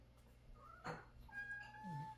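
A cat gives a short, close meow with a rising then falling pitch, fairly quiet over faint background sounds, with no talking.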